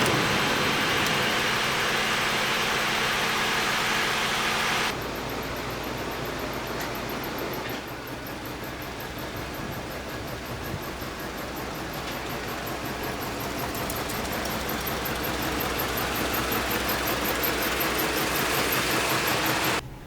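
An old, cheap car engine runs steadily with a slight misfire from worn spark plugs, a dense continuous roar that drops in level after about five seconds and then holds, close and loud, with no talk.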